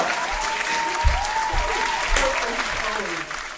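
Clapping breaks out close by, a short burst of hands with a few voices underneath, fading slightly toward the end.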